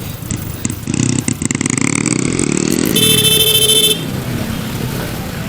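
Motorcycles weave through traffic at a busy street junction with no stoplight, their engines buzzing close by. A sharp horn blares for about a second near the middle, over a steady rumble of traffic.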